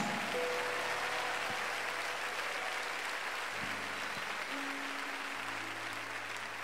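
A church congregation claps steadily in a dense, sustained wash of applause, fairly soft overall, with faint held keyboard tones underneath.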